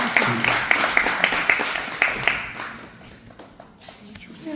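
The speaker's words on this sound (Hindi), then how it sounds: "नसर साहब के लिए बहुत तालियां दी।" A crowd applauds Nasar Sahib at a community event, the clapping fairly close at first and then dying away over a few seconds while a voice speaks.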